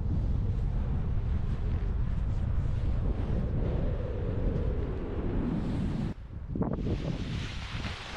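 Steady wind rushing and buffeting over a microphone during paragliding at Řevničov, a continuous loud roar with a brief dip near the end before the gusting resumes.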